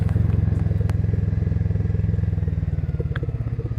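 A motorcycle engine thumps in a fast, steady low pulse as it rides a mountain road near Chitkul, close and loud throughout, with occasional clatters and knocks from the ride.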